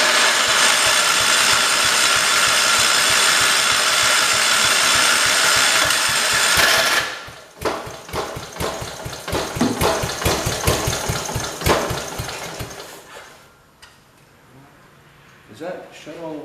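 A Kohler engine fitted to a 1968 112 garden tractor runs loud and steady, then its pitch shifts as the throttle is adjusted, settling into a rougher, uneven idle with sputters before fading lower near the end.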